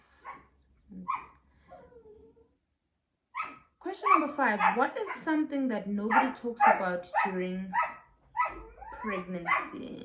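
A dog yips a few times, then barks repeatedly under a person talking, the barking mixing with the voice close by.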